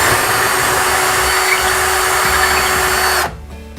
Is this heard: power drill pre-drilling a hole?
yes